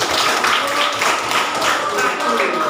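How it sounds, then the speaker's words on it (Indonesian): A classroom of students claps for a presenting group, brisk uneven clapping at close range, with some speech-like voices mixed in. "Baik, tepuk tangan buat."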